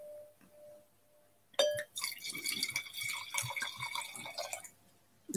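Godello white wine pours into a glass, a faint trickling and splashing stream for several seconds with light clinks of glass, close up and quiet, no talking.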